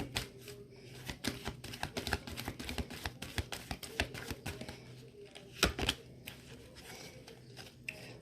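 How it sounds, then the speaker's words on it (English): Tarot cards being shuffled by hand in a quiet room, a steady run of crisp papery riffles and taps close to the listener, with no talking. "One more shuffle."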